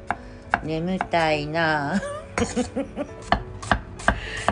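A knife slices cucumber thinly on a board, making a quick run of crisp, close cuts after a short sleepy remark from a voice.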